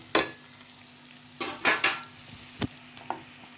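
Papaya sabji is stirred in a pan with the gas just turned off as coriander goes in. Several close, brisk scraping strokes of a spoon against the metal pan sound over a faint sizzle.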